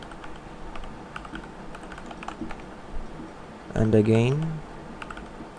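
Passphrase typed on a computer keyboard: a sparse, close string of light key clicks with uneven pauses, and a short spoken phrase near the end.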